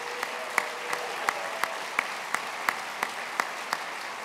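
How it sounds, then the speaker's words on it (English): An audience at an evening event claps for the professional staff, a moderate, even patter of applause with a few sharper individual claps standing out at regular intervals, heard at some distance. "Let's give the professional staff a round of applause."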